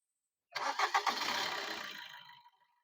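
The diesel engine of a 2018 Maruti Brezza VDi cranks with a few quick chugging pulses, then catches into a rough roar that tapers off after about two seconds.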